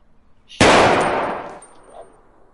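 A toy gun sound effect plays a single sharp electronic blast that bursts in suddenly, then fades over about a second with a faint ringing tail, alone with no talk.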